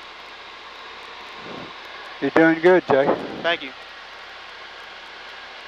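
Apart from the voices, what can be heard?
Varga 2150A light aircraft engine in flight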